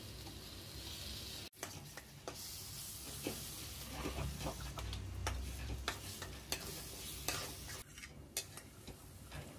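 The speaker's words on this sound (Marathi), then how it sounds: "हे मिश्रण आता आपण मध्यम ते मंद जाळावर अगदी तेल सुटेपर्यंत परतून घेऊया" A tomato, ginger and coriander paste with red chilli powder sautéing in oil for a kofta curry, with a steady close sizzle and repeated scraping stir strokes throughout.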